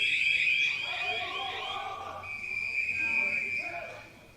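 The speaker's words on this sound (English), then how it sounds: "Whistles are working." A referee's whistle shrills at a hockey game, a couple of sustained high blasts that stand out over crowd noise and announcer commentary.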